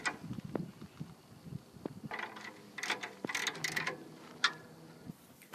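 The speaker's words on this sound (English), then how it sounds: "Now we're going to finish tightening the bolts with the ratchet." Ratchet tightening the caliper bracket bolts on the rear brake of a 1997 Mitsubishi Montero/Pajero, giving bursts of close metallic clicking at an irregular rhythm, with a few louder clicks and no talk.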